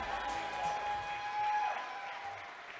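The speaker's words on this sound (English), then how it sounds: "A big round of applause for Caitlin and her dad." Wedding guests in a barn reception clap for the bride and her father, a soft, fairly distant round of applause with light cheering and faint chatter under it.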